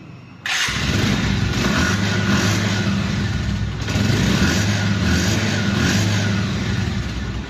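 A second-hand Bajaj Pulsar 150cc motorcycle fires up and settles into a steady, even idle with a low throbbing beat, close and loud for several seconds, with no one talking.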